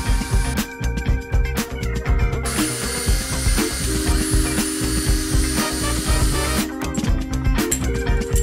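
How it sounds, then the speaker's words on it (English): A power drill whirs loudly and steadily, its motor pitch shifting as it bites into a 3D-printed thruster part for a shaft hole, with a few brief pauses and restarts. "So we need to drill a hole here for the shaft"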